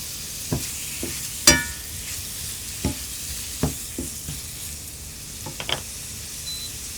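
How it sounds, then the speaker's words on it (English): Garlic shrimp sizzle steadily in a hot pan while a spatula stirs them, producing a series of irregular sharp scrapes and taps over a continuous frying hiss, close up. "you just want to cook and stir for 2 to 3 minutes"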